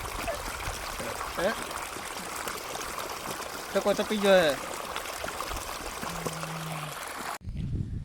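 Water gushing from a motor pump into an irrigated farm field makes a continuous rushing, trickling wash, heard close and steady while a few people talk over it.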